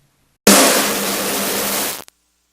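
One snare hit, degraded to 5 bits on an Ensoniq ASR-X, followed by a long, harsh, fizzy tail of gritty digital noise that holds steady, then cuts off abruptly.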